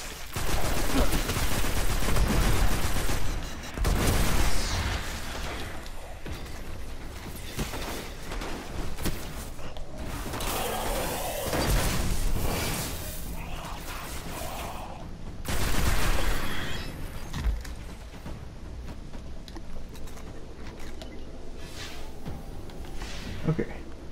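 Gunfire in the video game Destiny, with repeated bursts of rapid shots and heavier blasts rising and falling across the stretch, some close and loud, mixed with game noise and occasional talk.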